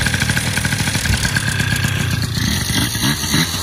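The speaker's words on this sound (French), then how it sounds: "On essaye de démarrer le 103 en même temps." A Peugeot 103 moped's small two-stroke engine runs close by, a steady rough putter with rapid rhythmic pulsing and light mechanical clatter, loud and alone for a few seconds.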